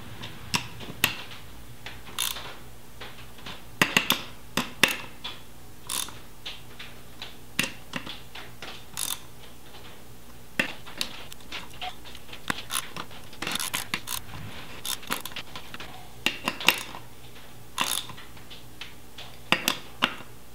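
Small ratchet clicking while tightening beadlock ring bolts on a wheel, bursts of sharp metallic ticks and clicks repeating irregularly, close but fairly quiet with no talk.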